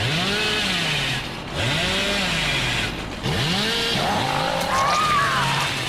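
Hillbilly's chainsaw in a horror video game revs in repeated rising and falling bursts, loud and close, with a higher whine near the end.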